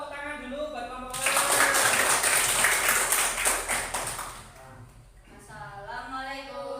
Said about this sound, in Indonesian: yang tepuk tangan dulu buat kelompok A